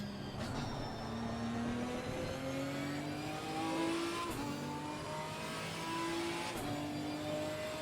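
Race car engine in Assetto Corsa Competizione, a steady loud drone that climbs in pitch through the gears with sharp shift breaks between runs, heard alone and up close.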